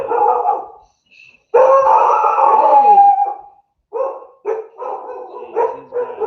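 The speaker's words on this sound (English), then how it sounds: "Jeez, these goddamn dogs." Several dogs nearby howl and bark, starting with a short howl, then a long drawn-out wail, followed by a string of choppy barks and yips.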